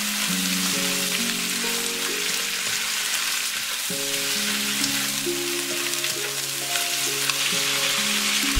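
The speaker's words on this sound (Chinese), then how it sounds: "翻炒一分钟左右" Lettuce stir-fries in a wok with sliced garlic and dried chilies in hot oil, a dense, steady close sizzle running throughout beneath a soft background melody, with no voices.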